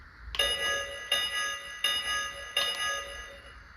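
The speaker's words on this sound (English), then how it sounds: "Decent sounding bell." Four evenly spaced metallic bell strikes from a Lionel model train sound car ring out with a thin, tinny tone, each decaying before the next.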